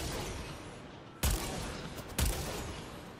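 Two sharp, punchy heavy attacks from Zephyr in the video game Warframe fire about a second apart over a faint, steady background hum.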